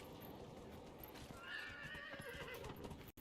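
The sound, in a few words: horse neighing and hooves, from video game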